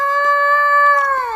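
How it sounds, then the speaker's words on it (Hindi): A dog cries loudly in pain with a bone stuck in its mouth, giving one sustained, wavering howl close by with no other sounds. "तभी रास्ते में उसे एक रोते हुए कुत्ता दिखाई पड़ता है जो जोर जोर से रो रहा था।"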